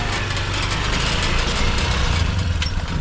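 A grass cutter engine runs steadily outdoors on a hot day, a continuous buzzing drone with no pauses, fairly close and loud, with no talk over it.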